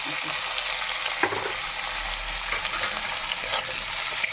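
Onions frying in hot oil with whole garam masala, a steady close sizzle with a few soft clicks of a spoon against the pan and no talking.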